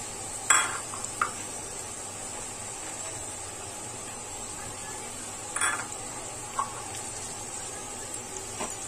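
Washed mung dal is tipped into a pan with papaya and stirred as it begins to fry, with soft scraping and a few metallic clinks over a low, steady sizzle, close by and without talk.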